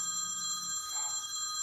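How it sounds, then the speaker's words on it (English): A mobile phone rings in a quiet room, a steady electronic tone held throughout at moderate level, with no voices over it. "Oh, that's my husband's phone."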